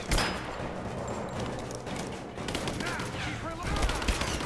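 Dense, continuous gunfire in the Rise of the Tomb Raider video game, with rapid overlapping shots and bursts at close range, loud throughout and mixed with game sound effects.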